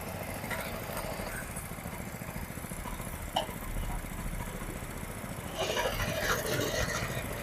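A 7hp Indian Agro power weeder rotavator engine idles in reverse gear, a steady close low chugging drone with a brief knock midway and a slight rise in roar near the end.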